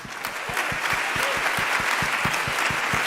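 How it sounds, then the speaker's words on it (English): An audience at a business event applauds after a speech, with loud, dense clapping and a few distinct claps standing out up close. "a resounding applause for my speech"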